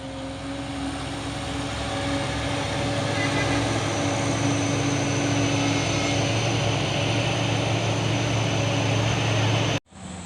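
A Colt Diesel truck rated at 125 PS drives along the road in a continuous loud engine drone and rumble of tyres that holds steady before cutting off abruptly near the end.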